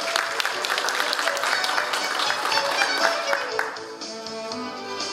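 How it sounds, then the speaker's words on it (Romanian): An audience at a district awards ceremony for best entrepreneur in Soroca applauds a winner, a dense burst of clapping that thins and fades toward the end as a voice comes in. "Să-i dăm aplauze!"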